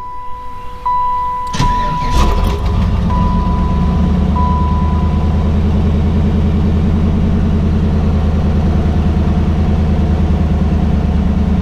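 A 1993 Chevrolet Camaro LT1 V8 is cranked over and catches with a brief sharp transient, then settles into a loud, steady idle that carries on without a break to the end, close by.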